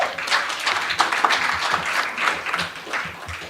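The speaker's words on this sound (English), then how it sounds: "can we give her a round of applause?" An audience at a union launch event in South Africa claps for a speaker in a dense, continuous round of applause that stays loud throughout.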